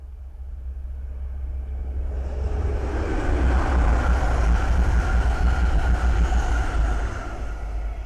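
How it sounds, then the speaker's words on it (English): An East Midlands Railway Meridian train passes on the Midland Main Line, building from a low distant rumble into a loud, broad roar close by, then holding steady before starting to fade. "the next train to pass by is an Eastman's Railway Meridian from London St Pancras to Nottingham."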